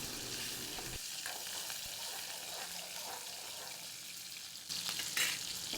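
A handful of garlic sautéing in a pan as the base for a green turkey berry curry, with a constant close sizzle and a brief stir, alone.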